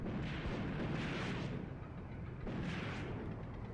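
Soviet 76mm tank cannons fire high-explosive rounds on the Eastern Front in Graviteam Tactics, heavy booming blasts with rumbling tails, two distinct swells over a continuous low battlefield roar.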